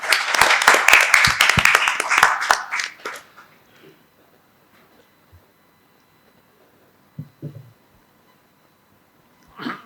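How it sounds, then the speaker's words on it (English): Audience applause welcoming a speaker at an evening event: a burst of close, distinct hand claps for about three seconds that quickly thins out and stops, followed by near silence with a few faint scattered sounds. "So can I have a round of applause to welcome him,"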